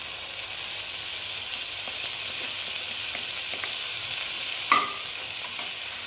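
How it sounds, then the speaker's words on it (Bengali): Paneer fries with spices and onion in a pan, giving a steady, even sizzle while a spatula stirs, with a few soft scrapes and one sharper clink of utensil against the pan. "পনিরটা দিয়ে একটু নাড়াচাড়া করে নিচ্ছি"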